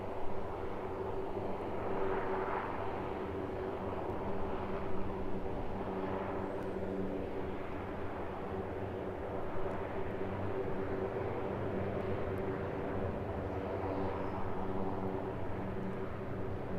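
An airplane departs from Cairns Airport in tropical Far North Queensland, heard as a steady, distant jet engine roar that swells and fades gently over time, with no voices.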